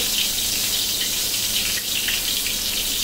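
Loitta (Bombay duck) fish dusted in flour frying in hot oil in a wok, a loud continuous hiss and sizzle up close with no speech.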